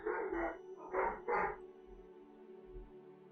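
Several dogs, a husky, a Greater Swiss Mountain Dog and a griffon, let out a few loud, close barks in two quick bursts indoors, then a fainter single woof follows.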